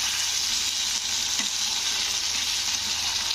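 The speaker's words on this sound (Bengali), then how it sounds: "পেস্টটা দিয়ে কিন্তু আলুর সঙ্গে ভালো করে কষে নিতে হবে।" Potatoes and okra fry with ginger-garlic paste in a pan, giving a steady, loud, close sizzle and hiss that continues without a break, with faint stirring scrapes and no voices.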